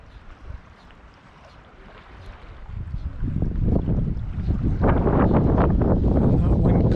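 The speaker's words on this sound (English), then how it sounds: "When that wind gusts up, it's difficult." Wind gusts roar louder and louder across the microphone on a bank while fishing, building from a light rustle to a heavy, steady buffeting with water lapping underneath.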